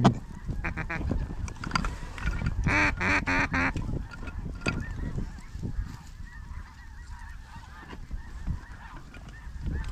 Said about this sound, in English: Ducks right above us, dude.